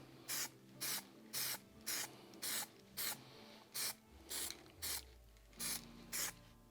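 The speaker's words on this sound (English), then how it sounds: "I'm going to give it a quick spray paint" Short bursts of spray paint hiss out in a steady rhythm, about a dozen quick presses spaced evenly, close up, while a DIY Halloween Vecna decoration is painted.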